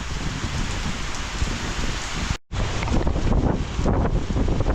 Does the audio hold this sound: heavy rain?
yes